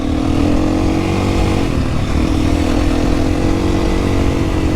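A KTM 350 four-stroke motorcycle rides over snow and ice, its engine a steady, loud, close drone with a constant pitch throughout.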